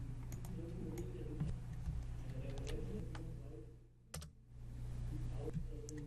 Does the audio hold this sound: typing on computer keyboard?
yes